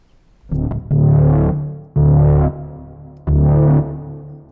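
Three sustained psytrance synth lead notes with long reverb, each swelling in and cutting off with a short decaying tail, loud and upfront with no voices.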